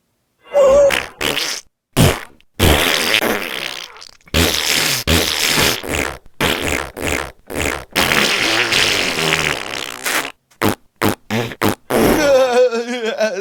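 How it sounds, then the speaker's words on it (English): A voice turned into fart noises by an Iron Man gauntlet gag: a rapid string of loud, sputtering fart bursts in uneven bursts and pauses, like a parody of speech, up close with no plain talk. "Can you use that gauntlet right there to turn my voice into farts?"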